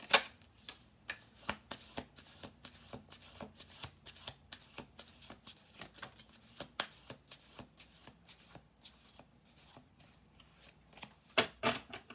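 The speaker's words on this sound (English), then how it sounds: "I'm going to do one more shuffle" Repeated riffling and snapping of a tarot deck being shuffled, close up, in bursts of quick flutters with brief pauses, no talking.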